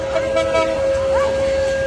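Benapole Express train near Gendaria station, a long steady horn tone sounding over rumbling rail noise as the train passes, with a voice briefly audible.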